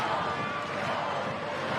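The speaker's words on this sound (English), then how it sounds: "Skoll chants the crowd." Crowd at a Banana Ball championship semifinal chanting a player's name, a steady dense roar from a large stadium audience that blends into one continuous wash of voices.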